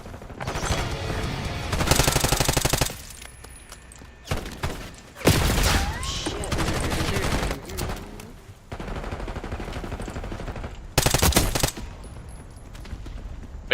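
Bursts of automatic gunfire from a Call of Duty Black Ops match ring out in loud, dense volleys separated by brief gaps, with scattered single shots and thuds between the heavier fusillades.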